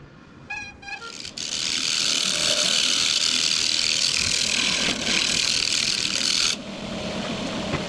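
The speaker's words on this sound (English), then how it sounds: "I can scrape some more off the bottom of it there." Dyed maple vase spinning on a wood lathe as a tool scrapes its bottom, a brief ratcheting tick followed by a steady loud rasping scrape that cuts off near the end, leaving the lathe's hum.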